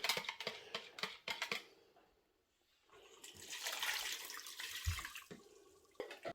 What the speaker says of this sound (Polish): Teraz dodam 600 ml wody.